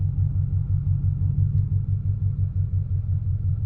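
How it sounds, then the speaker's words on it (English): A manual Toyota GT86 on E85 with a tuned engine rumbles steadily at low revs as it pulls away, a close, throbbing, pulsing engine note with no talking. "That's when the car starts moving."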